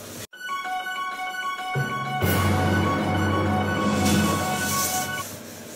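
A 5/8 inch drill bit boring into tamarisk wood on a lathe, a steady spinning hum with a harsh grinding bite that builds partway through and continues loudly to the end.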